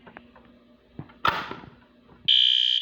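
During a building fire alarm test, a loud electronic alarm tone suddenly sounds and holds steady after a few faint knocks and a brief whooshing burst.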